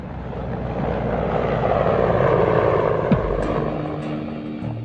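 A Hind helicopter with twin-turbine 2,200 horsepower engines flying, a steady loud roar and rotor drone that holds at the same level throughout.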